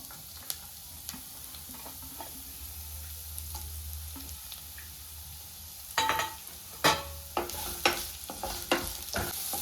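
Onions, garlic, green chilies and curry leaves sizzle steadily in hot oil for a street-style gobi Manchurian, a low frying hiss with sharper crackles and spoon-stirring clatters in the second half, no talking.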